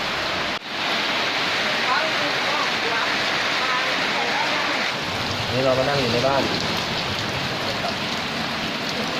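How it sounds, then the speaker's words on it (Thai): Steady rain falls outside a house in Huai Hin Dam village, Dan Chang, a dense continuous hiss of drops on surfaces, loud and close throughout, with someone speaking briefly over it. "ฝนตกแล้ว"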